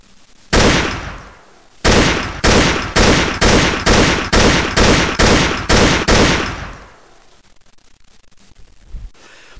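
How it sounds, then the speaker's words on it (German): Assault rifle gunfire sound effect with a firecracker-like character: one loud burst, then a rapid run of about ten evenly spaced cracking shots, each ringing out, before it tails off into quiet. "Ohne jede Vorwarnung eröffnete er das Feuer mit seinem Sturmgewehr, von dem jetzt ein Böllersound kommen soll."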